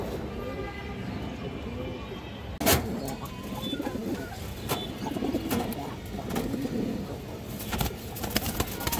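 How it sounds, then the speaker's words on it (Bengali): Pigeons coo in soft, repeated rumbling phrases among a loft of racing birds, near and moderate in level, with someone talking over them and a sharp clap or flutter partway through. "এখানে একটা নর কবুতর আছে মাশাআল্লাহ,"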